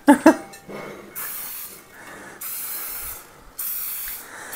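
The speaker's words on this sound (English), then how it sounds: "So I'm going to spray the pan." Several short hissing bursts of cooking spray, close and fairly loud, separated by brief pauses.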